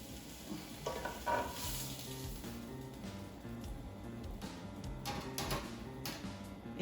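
Chicken sears in an oiled pan, giving a steady close sizzle with occasional light scrapes and clinks of a utensil, and no talk.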